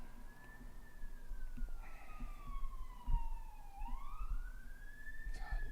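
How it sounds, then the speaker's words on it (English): Emergency sirens wail outside, a long rising and falling tone that sweeps steadily across the whole stretch at moderate distance, with faint street traffic beneath and no talking. "these goddamn sirens. It literally just never stops"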